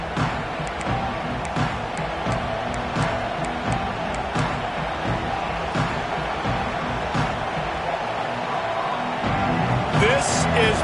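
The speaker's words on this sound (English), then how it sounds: "this crowd is buzzing after that last score" A football stadium crowd at USC vs Washington keeps up a constant loud buzz with swells of cheering under an announcer's play-by-play commentary.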